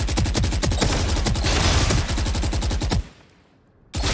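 Rapid automatic gunfire from running and shooting in Valorant, a dense stream of loud close shots for about three seconds, a brief lull, then firing resumes.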